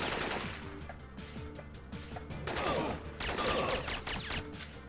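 Rapid gunfire from a 1999 PlayStation 1 video game rattles in dense bursts across the whole stretch, sometimes thinning to single shots, moderately loud with no talking.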